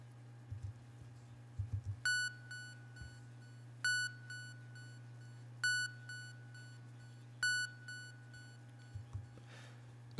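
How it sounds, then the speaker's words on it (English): Repeating electronic beep in a music mix, produced in PreSonus Studio One, sounding four times at an even two-second pulse with a delay echo, over a steady low bass drone. "And this beep sound, I want to create some automation for."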